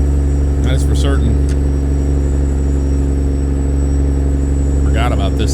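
Deep, steady diesel rumble of a truck engine in American Truck Simulator, hauling a Volvo excavator through tight turns, loud and constant with someone talking over it in short bursts.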